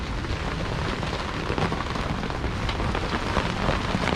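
Steady rain pattering on a boat, dense and continuous with scattered heavier drops, fairly close and filling the whole clip with no voices.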